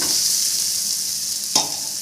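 Onions and curry leaves sautéing in a pan for coconut rice: a steady bright sizzle with no talking, broken near the end by a single sharp clack of a stirring spoon.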